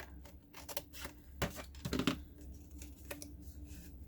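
Scissors snip through paper in the middle of a cut-out shape for a craft hat, a handful of short crisp cuts at close range in a quiet room.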